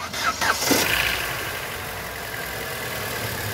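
A 2007 Chevrolet Vectra Elegance 2.0 engine cranks briefly and catches, then settles into a steady low idle that continues to the end.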